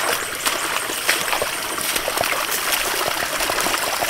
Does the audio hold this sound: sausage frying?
no